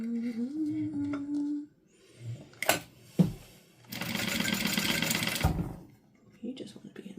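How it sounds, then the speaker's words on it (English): A sewing machine stitches fabric a quarter inch in from the edge, with back stitching: a loud close burst of rapid stitching in the middle, a voice talking before it, and handling knocks around it. "all I'm doing is sewing a 1/4 inch down on both sides, back stitching at the beginning and the end"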